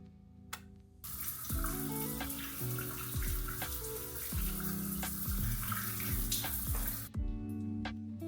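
Water rushing steadily from a shower for several seconds, loud and close, starting and stopping abruptly, with a tonal music bed underneath and no voices.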